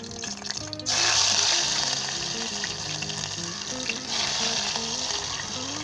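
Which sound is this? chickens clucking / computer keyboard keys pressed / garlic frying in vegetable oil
garlic frying in vegetable oil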